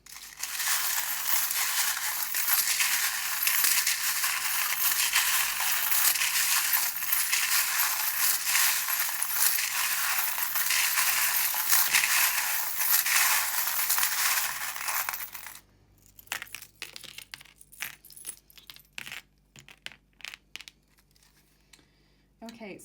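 Tarot cards being shuffled together with small metal charms and dice, a loud continuous rattling, clinking and crunching for about fifteen seconds, then scattered lighter clicks and handling noises.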